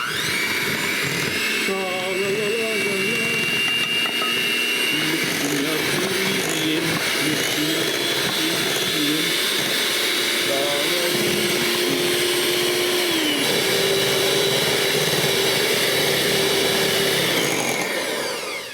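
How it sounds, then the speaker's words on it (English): Electric hand mixer whirring loudly and steadily while blending waffle batter in a bowl, a continuous motor drone with pitch shifts as it works, over background music and some talk. "let's get our mixer and mix this up really good"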